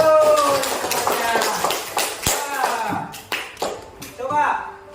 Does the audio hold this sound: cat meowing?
no